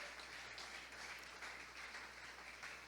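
A church congregation applauds during an evening worship service, a soft, steady wash of many hands clapping at a distance, low and even throughout with no voices breaking through.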